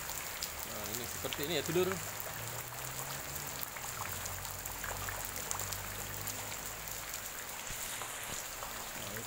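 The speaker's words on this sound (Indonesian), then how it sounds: "Hujannya deras banget," Heavy rain pours down steadily at Karangmojo, Gunungkidul, a dense, constant hiss of drops on surfaces throughout, with someone speaking casually over it near the start.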